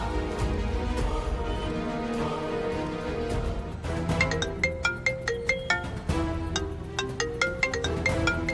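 A mobile phone ringtone plays a melodic tune, soft and sustained at first, then a brighter, rhythmic pattern of repeated chiming notes that keeps looping, with no talking over it.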